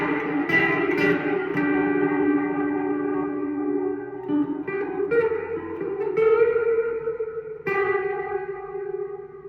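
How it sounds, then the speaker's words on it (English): Electric guitar played through a Catalinbread Sinkhole ethereal reverb pedal, with the reverb set at about 4: sustained chords and picked notes bloom into a spacious, echoing wash that rings on, with fresh strums entering every couple of seconds. "Just a little bit of reverb"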